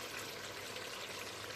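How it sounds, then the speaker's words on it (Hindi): Four cups of water pour into a pot of mutton for biryani, a steady, close splashing gush throughout the brief moment with no talking. "चले 4 कप पानी को शामिल करते हैं।"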